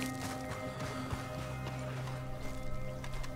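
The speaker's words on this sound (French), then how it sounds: "y a mon cheval qui arrive" Horse in the Red Dead Online video game trotting in, with steady clip-clop hoofbeats beneath music and a busy game soundscape.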